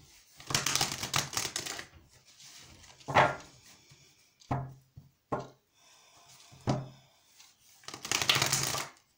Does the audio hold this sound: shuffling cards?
yes